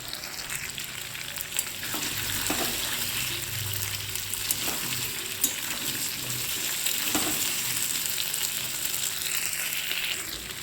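Potatoes and taro fry in hot oil with a continuous, crackling sizzle, punctuated by occasional soft scrapes and clinks of a spatula stirring the pan up close.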